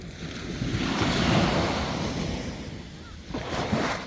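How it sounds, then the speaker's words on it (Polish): Sea surf washes up onto the shore beside people at the water's edge, a loud continuous wash of waves swelling and receding, with wind noise buffeting the microphone. "Woda już podpływa pod nasze stanowisko."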